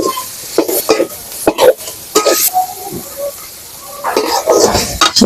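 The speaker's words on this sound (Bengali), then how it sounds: "আলুটা ভাজা তেল লেগে তাড়াতাড়ি কষাই হয়ে যাচ্ছে" Potatoes are stirred and fried in hot oil for a spicy fish curry, with loud, close, intermittent scraping and sizzling bursts between pauses, and a voice talking alongside.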